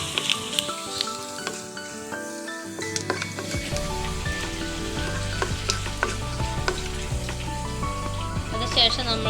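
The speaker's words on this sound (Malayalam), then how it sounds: "നമ്മളതിലേക്ക് 3-4 വറ്റൽമുളക് ചെറുതായി അരിഞ്ഞ് ചേർക്കാം. ചേർത്തതിന് ശേഷം നമുക്ക് വഴറ്റി കൊടുക്കുന്നത്." Chopped dried red chillies sautéing in hot oil, a crackling sizzle with stirring clinks, heard under steady background music.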